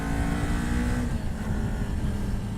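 Continuous low engine drone from a 2018 Kawasaki Ninja 400 motorcycle, fairly steady with slight shifts in pitch as it revs, heard from close by while riding with wind rushing over it.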